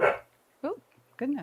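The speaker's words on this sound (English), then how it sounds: "that's my dog barking to go out" A pet dog barks to be let outside, two sharp, fairly close barks spaced apart after a brief burst of noise, with a voice briefly speaking.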